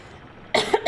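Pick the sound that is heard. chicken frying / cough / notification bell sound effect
cough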